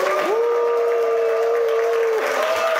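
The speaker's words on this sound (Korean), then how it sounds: "박수 함성 크게 치면서 한번 해보겠습니다" A conference audience claps and cheers continuously for a few seconds, a dense wash of applause with a sustained whistle-like tone riding over it.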